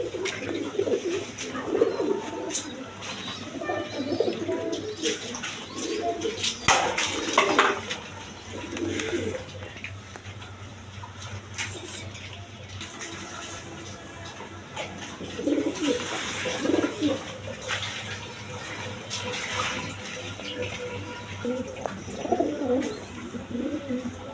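Many pigeons of different kinds, including breeding birds, coo steadily in a loft, a soft layered murmur with occasional wing flutters and background noise throughout.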